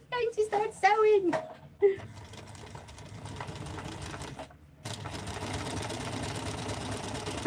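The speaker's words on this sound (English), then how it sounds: "Going to start sewing." Sewing machine stitching, a steady mid-level mechanical whir that starts after a woman's speech and runs continuously, with her voice briefly talking over it.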